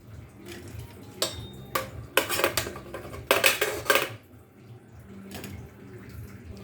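Amla (Indian gooseberries) tipped into a kadhai already holding palm sugar: a cluster of loud, close clattering knocks as the fruit hits the metal pan, with softer handling noises before and after.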